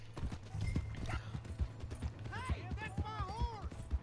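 Horse hooves clip-clop steadily in Red Dead Redemption 2, a close rhythmic clatter of footfalls running throughout, with game voices talking over the hoofbeats.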